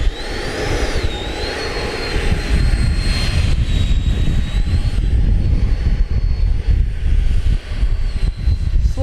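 An FMS Rafale 80mm electric ducted-fan RC jet taxiing on grass, with a loud, close, steady whine and rushing roar that rises and holds, its pitch wavering slightly, no voices.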